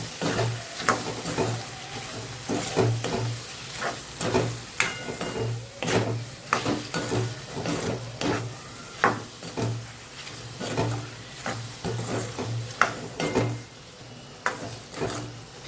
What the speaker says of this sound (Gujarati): સરસ આપણે સાતળી લેવાનું છે શાકને।